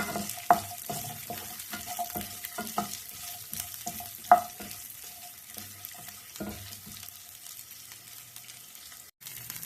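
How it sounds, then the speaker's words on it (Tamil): Onions with ginger and garlic frying in a pan, a sizzling bed broken by repeated scraping stir strokes with a couple of sharper knocks, the sizzle settling and quieter toward the end. "பெரிய வெங்காயம் ஒரு ஆஃப் எடுத்து கட் பண்ணி வச்சுருக்கேன் இதையும் அதோடு போட்டுப்போம் இதை நல்லா வறுத்துடலாம்"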